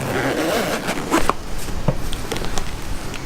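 A zipper runs along a fabric carrying pouch for a DJI Mavic Air drone, a close, raspy pull with some handling rustle and a few clicks around it.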